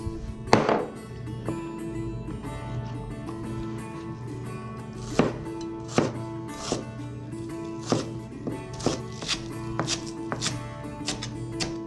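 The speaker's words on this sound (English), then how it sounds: "I'm gonna go ahead and cut up these green onions." A knife chops green onions and chives on a cutting board in a home kitchen. Scattered, uneven knocks sound nearby over a steady background hum.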